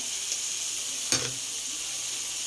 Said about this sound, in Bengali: সব কিছু দিয়ে আমি একটু কষিয়ে নিব